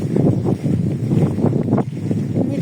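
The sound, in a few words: strong wind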